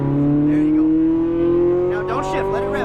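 Ferrari 458 Italia on a race track, its engine loud and close from inside the cabin, the note climbing steadily in pitch as it revs, with a voice talking over the last part.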